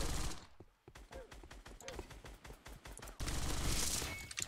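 KRISS Vector gunfire in the Roblox game Weaponry, a fast burst of sharp automatic shots in quick succession, followed by a louder, denser wash of noise.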